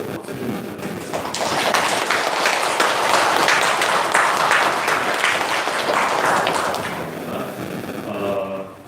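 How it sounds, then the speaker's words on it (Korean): A church congregation applauds during a Sunday morning worship service, broad sustained clapping from many hands filling the room for several seconds before fading, with a voice coming in at the end. "박수 좀 부탁드리겠습니다."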